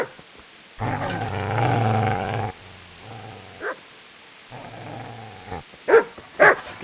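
A dog in the medieval video game Kingdom Come: Deliverance growls and barks, with a long low snarl followed by shorter growls and a few sharp barks near the end, fairly close and with no talk.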